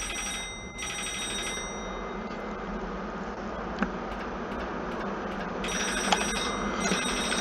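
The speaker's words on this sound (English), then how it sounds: "That phone's ringing again." An old-style telephone bell in the horror game Office Paradox rings in repeated bursts, cutting off and resuming over a constant low room hum, with a couple of faint clicks between rings.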